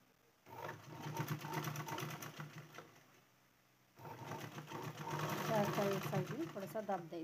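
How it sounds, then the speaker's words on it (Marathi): An electric sewing machine stitches piping onto a princess-style blouse in two runs, a brief pause between them, with a steady rapid needle clatter that grows louder in the second burst. "एकदम सावकाश गोट मारायचा आहे।"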